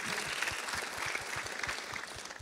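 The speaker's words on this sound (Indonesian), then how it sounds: "berikan tepuk tangan untuk Tuhan" A church congregation claps together, dense and steady for a couple of seconds, with a low rhythmic thump running beneath the applause.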